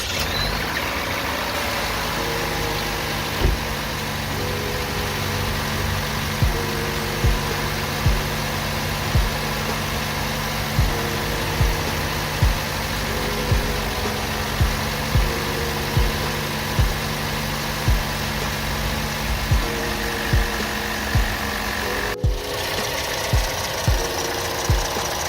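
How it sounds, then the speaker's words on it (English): A car engine idles after a valve cover and PCV valve replacement, a steady low running drone with a faint regular ticking throughout and a brief sharp click near the end. "Now you can start the car and let it idle for a few minutes to verify there are no oil leaks."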